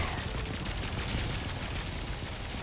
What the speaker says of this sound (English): it's like some kind of artillery barrage